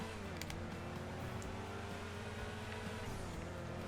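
A race car drives steadily in the Transport Tycoon game, its engine a low, continuous drone held at an even level throughout, alone with no voices.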